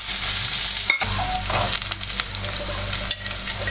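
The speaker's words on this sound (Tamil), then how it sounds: "வெங்காயத்தை கொட்டிக்கிறோம்" Onions go into hot oil with mustard seeds and urad dal and fry in a loud, close, continuous sizzle, with a few brief stirring scrapes.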